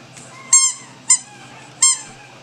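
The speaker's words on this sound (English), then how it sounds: "Is it not squeaking?" A squeaky toy being played with for a mini poodle puppy gives three sharp, loud squeaks at a steady rhythm, close up, with near silence between them.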